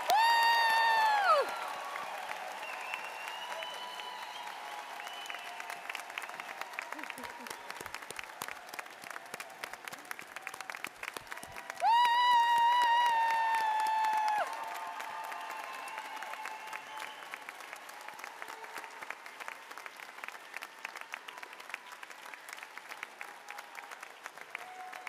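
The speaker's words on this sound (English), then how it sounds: "please join me in a big round of applause for our newly coded class" A large medical school audience at a white coat ceremony gives long, sustained applause with scattered whoops and cheers, loudest at the start and again near the middle, then settling into steady clapping.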